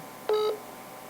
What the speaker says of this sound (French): Là, mon téléphone, il fait bip.